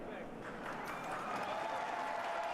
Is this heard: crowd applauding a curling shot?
yes